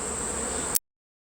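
A steady swarm-like buzz of white honeybees close by while being put into a Warre hive, constant and droning, then cutting off abruptly into silence.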